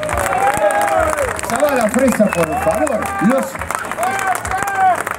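Crowd applause and clapping at an outdoor rock tribute event in Parque Avellaneda, loud and steady, mixed with someone speaking over a PA and general crowd babble.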